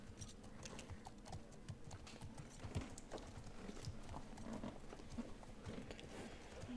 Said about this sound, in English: that's gonna be Ellie's horse